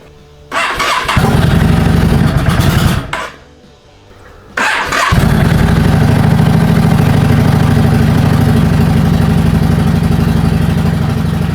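Yamaha V-Star 650 motorcycle engine cranking and catching, stalling into a brief quiet gap, then restarting and settling into a loud, uneven, rough idle up close.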